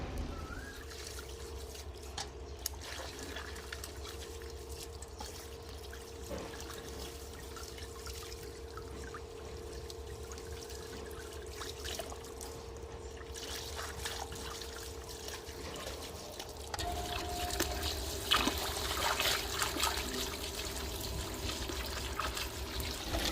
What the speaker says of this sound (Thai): แล้วก็เอาไปล้างน้ำให้สะอาด